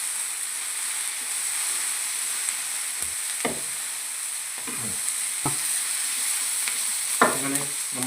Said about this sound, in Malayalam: എല്ലാം കൂടി നല്ല രീതിയിൽ മിക്സ് ചെയ്യുക.